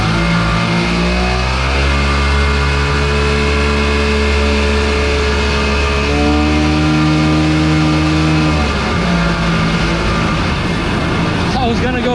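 Small jet boat engine running steadily at close range, with shifting harmonic tones as the revs rise and fall, then dropping off near the end.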